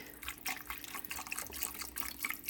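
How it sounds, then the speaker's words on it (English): Chicken broth pours from a carton into an Instant Pot, making a steady, close liquid splashing and trickling that runs through the whole stretch without talk. "I'm going to throw in a cup of chicken broth"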